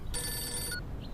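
A telephone ringback tone sounds once during an outgoing call, a short, bright electronic ring lasting about half a second, clear and close.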